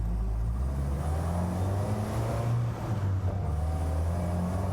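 Restored Land Rover Series IIA driving and slowing to make a turn, its engine giving a steady low rumble from inside the cab that dips slightly as it eases down, with no voices.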